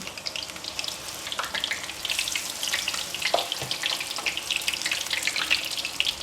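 Batter-coated oyster mushrooms deep-fry in hot oil, a dense continuous bubbling crackle with fine popping that stays steady and close throughout.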